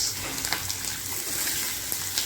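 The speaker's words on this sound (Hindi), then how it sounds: "वही मिर्ची को डाल देंगे। चड़पड़ हो रहा है।" Chopped green chillies hit hot oil and sizzle with a steady, close hiss and faint crackles, short and continuous.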